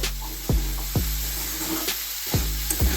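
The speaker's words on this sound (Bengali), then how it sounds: "সেটা দিয়ে আমি একটু নাড়াচাড়া করবো" Fenugreek greens fry in a pan with a small pinch of sugar, keeping up a steady close sizzle while a spatula scrapes and taps the pan about every half second.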